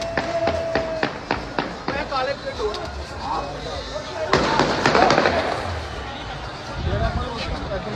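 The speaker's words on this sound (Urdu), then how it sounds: "3 دن تک فضا میں پتنگوں کے ساتھ بوکاٹا کے علاوہ ہوائی فائرنگ ہوتی رہی" Aerial gunfire at a Basant kite festival in Kasur, a burst of sharp cracks in quick succession followed by a louder cluster of shots amid crowd hubbub and general outdoor noise.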